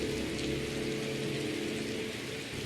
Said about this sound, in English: we're going to turn on the desktop audio, so you should start hearing rain